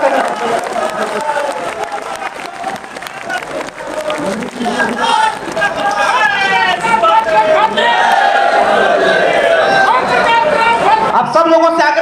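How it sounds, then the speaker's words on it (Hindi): An auditorium audience at a political party's national working committee meeting in Lucknow, loud sustained applause and crowd clamour building and holding, mixed with chatter and voices. "जोरदार ताली बजा के सवाल कर दीजिए"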